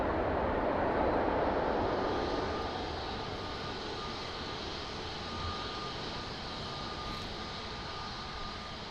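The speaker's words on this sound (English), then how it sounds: "Nice, smooth Ryanair landing." A Ryanair airliner lands at Lisbon Airport, its engine roar loud and broad at first, then easing into a steady, lower rumble as it rolls out.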